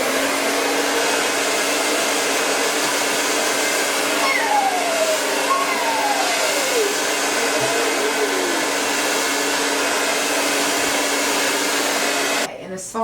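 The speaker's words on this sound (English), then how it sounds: "just like blowing your hair dry with cold air, helps it, like, it helps it lay more smoothly and it's not as frizzy" A hair dryer on its cold setting blows steadily and loudly on hair throughout, a constant airy roar that cuts off abruptly near the end.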